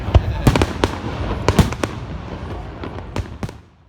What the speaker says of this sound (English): Australia does good fireworks, and seems to have them at every opportunity.